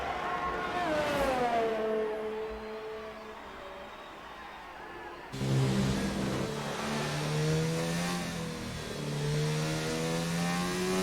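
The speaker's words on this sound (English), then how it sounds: "You can hear that engine of that Renault." A Renault race car engine in a racing video game, at the Belgian Grand Prix, revs and climbs through the gears at high pitch, shifting up repeatedly, loud and steady with no talking.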